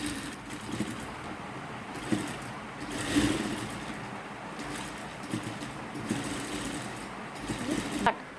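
A sewing machine stitches a coat in a steady, muted whir running through most of the stretch, fairly quiet and close.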